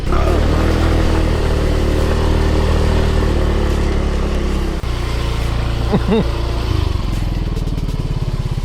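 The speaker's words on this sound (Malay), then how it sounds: "nyawa skuter aku macam scrambler pula tu" A scooter engine drones loudly and steadily, rising in pitch as it revs, with a rough, rattling buzz throughout.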